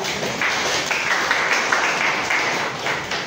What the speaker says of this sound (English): So, please give a round of applause for group.